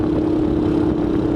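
Motorcycle engine idling steadily at close range, a low continuous rumble with a constant hum and no speech.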